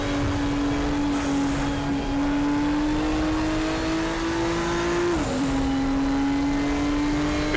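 Four-wheel-drive Nissan Skyline touring race car in the RaceRoom racing game at Sonoma, its engine holding a loud, steady high-revving drone that drops briefly with a gear change about two-thirds through, then carries on.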